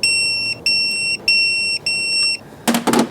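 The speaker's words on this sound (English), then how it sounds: "now you should hear the beep once I've reached 15 Newton meters" Electronic torque wrench beeping on reaching 15 newton meters while tightening cam plate bolts on an engine with failed cam phasers: four steady high-pitched beeps in even rhythm, each about half a second, followed by a brief clatter of tool noise.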